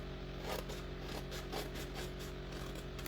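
Scissors cutting through card stock to trim a handmade greeting-card box, giving repeated crisp slicing rasps in a steady rhythm over a constant low hum, close with no talking.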